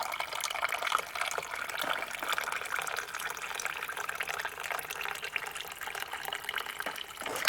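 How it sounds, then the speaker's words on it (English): A second-hand water cooler pours hot water into a mug with a soft, steady trickle and a splashy fill, faint and close, over a quiet room with no voices. "this is my water cooler I got second hand."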